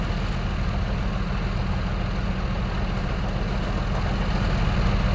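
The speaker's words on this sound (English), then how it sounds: "Turn off that engine." A military vehicle engine idles in ArmA 3 with the German Bundeswehr mod, a loud, steady low rumbling drone that holds unchanged throughout with no voices.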